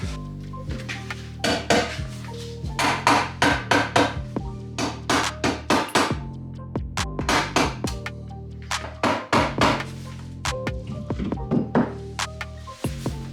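Repeated metallic thunks and clanks of hammering a transmission casing onto the bell housing of a K20 gearbox, irregular blows in quick bursts, close and loud, with no talking.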